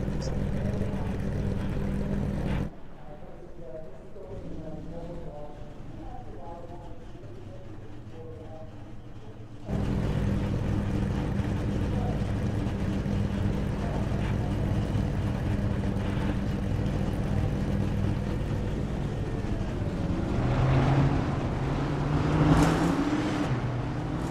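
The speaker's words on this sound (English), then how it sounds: "The engines have been fired up and everyone rolling down the front stretch and ready to go green flag racing" A continuous rumbling drone of NASCAR stock car engines at Darlington Raceway in a racing video game. It drops quieter for several seconds early on, then returns to a fuller roar that swells slightly near the end, with talking at times.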